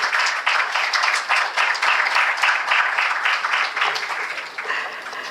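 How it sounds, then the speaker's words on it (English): Dense, steady audience applause fills a stock exchange listing ceremony for Emmvee Photovoltaic Power Limited on the NSE, sustained at full strength for about five seconds and easing slightly at the end. "Let's give a thunderous round of applause for the iconic feat that Emmvee achieves today"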